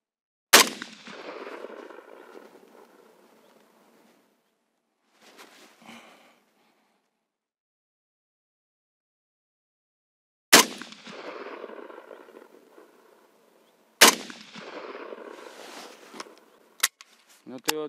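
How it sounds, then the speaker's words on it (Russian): Shots from a Saiga-308 rifle with a 555 mm barrel ring out loudly and sparsely, each crack trailing a long echoing tail, with the final two shots fired in quick succession. "4-й выстрел сделал с такой скоростью"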